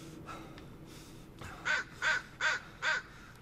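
Four loud crow caws from the Blair Witch horror video game in a steady rhythm, each a harsh drawn-out call, over a low background hum and faint earlier calls.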